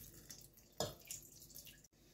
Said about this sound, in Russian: Воду сливаем с помидор.